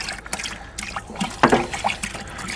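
Thompson's water seal, a milky wood-sealing liquid, is poured from a container during a DIY trailer fender build, making an uneven trickle and splash that swells briefly midway, outdoors with no one talking.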